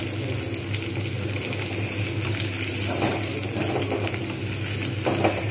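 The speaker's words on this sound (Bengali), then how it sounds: "একটু লালচে করে ভালোভাবে আমি প্রথমে পেঁয়াজটাকে আমি ভেজে নেব" Onion, green chili and garlic frying in a pan for a kalmi greens dish, a loud, close, continuous crackling sizzle with occasional stirring scrapes and no talk.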